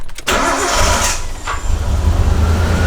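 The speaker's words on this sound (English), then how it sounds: "Sounds like it's still misfiring though." A Nissan R32 Skyline with a replacement engine, its MAF sensor disconnected, cranks and catches, then runs loud and close with a rough, uneven misfiring idle.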